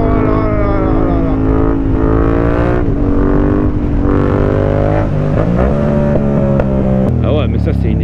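A motorbike engine revs hard during a wheelie, a loud close whine that climbs and dips in pitch, with a sharp rise in the last second.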